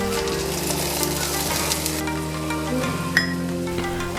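Chopped vegetables for a vegan spinach and lentil curry sizzle and fry steadily in a pan, a continuous close crackle with occasional stirring clinks and scrapes, no voices.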